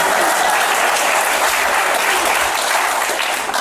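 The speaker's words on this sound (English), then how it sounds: "Feel free to clap." A comedy showcase crowd at the Clinton St Theatre in Portland, Oregon claps in a loud, thick, continuous burst of applause that fills the room from start to finish.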